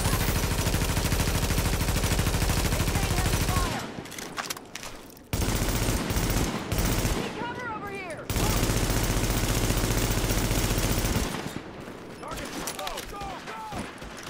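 Sustained automatic gunfire in The Division video game's Dark Zone North, loud dense bursts that break off and resume, with sharper ricochet-like zips and brief gaps between volleys.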